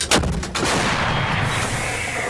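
A single heavy artillery boom, sharp and loud, followed by a long rumbling roar that rolls on and slowly fades.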